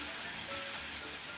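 Heavy rain pouring down outdoors during an approaching storm, a steady hiss of rainfall with no break across the short stretch.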